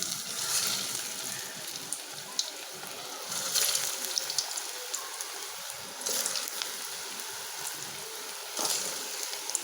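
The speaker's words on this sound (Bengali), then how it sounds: "তো এক এক করে আমি এখন তেলে ছেড়ে দিব।" Hilsa fish fritters slipped one by one into hot oil on a stove, giving a steady crackling sizzle with brief louder hisses each time a piece drops in, no talking.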